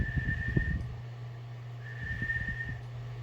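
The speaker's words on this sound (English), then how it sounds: "It actually comes out as a whistle" A person recovering from TMJ joint replacement and LeFort 1 jaw surgery whistles two thin, steady, sustained notes with a pause between them, faint over a low background hum and soft rustling.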